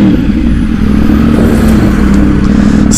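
A new unregistered motorcycle rides through São Paulo, its engine a loud, close, steady rumble with rushing wind and road noise throughout.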